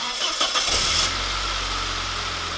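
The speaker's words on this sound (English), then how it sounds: "I want to turn the car on, hear the engine run" A car engine cranks with a whirring starter, catches, and settles into a steady low idle.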